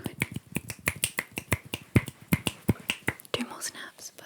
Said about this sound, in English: You do more finger snaps, more finger snaps, more finger snaps